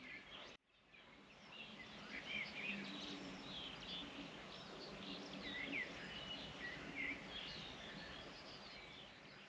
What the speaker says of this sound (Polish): Jest taki koncert. Tak ptaki dają ostro.